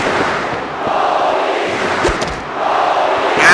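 A large wrestling crowd at Ford Field in Detroit, Michigan roars in a continuous swell, loud and enveloping, rising toward the end.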